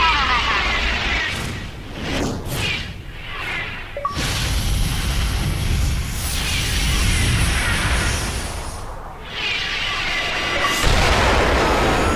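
Loud booming missile explosions and blasts in Quake 4 on Xbox 360, with whooshing rushes and rumbling impacts, dense and continuous throughout.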